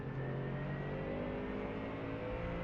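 Mustang GT3 race car engines at Jerez in a racing video game, a dense steady roar of several engines droning together with no clear gaps, loud and continuous throughout.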